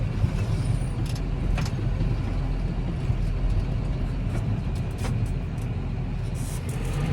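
A tractor hauling cow manure through deep snow in its lowest gear, giving a constant low engine rumble close by, with scattered clanks and rattles over the drone.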